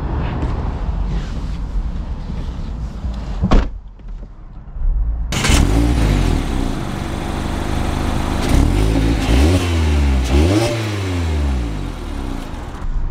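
An automatic Mazda Miata's engine revs up as the car accelerates on the road, with a brief drop to quiet near the start and rising, sweeping engine tones and road noise afterward.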